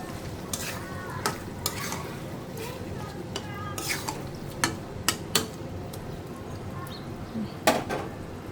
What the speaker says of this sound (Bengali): আলু আর মাছ দিয়ে দিয়েছি ওখানে একটু কষাবো